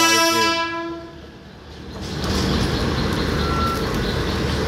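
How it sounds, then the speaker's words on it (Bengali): A local train near Bandel railway junction opens with a loud horn blast that fades, followed by a steady, close rolling rumble of wheels on track. "একটি up local train Bandel railway junction অভিমুখে যাচ্ছে"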